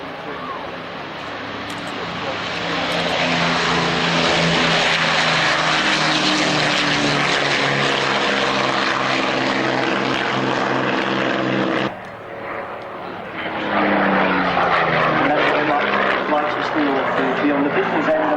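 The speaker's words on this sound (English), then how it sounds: "There the Hurricane Mark IIC, flown by Shiny Simmons" A Hawker Hurricane Mark IIC propeller fighter flying at an airshow, its piston engine roar swelling as it nears and passes loudly, briefly dipping then surging again, with a commentator talking over it.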